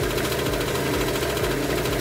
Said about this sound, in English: So here you can see it's revving at 1600 RPMs.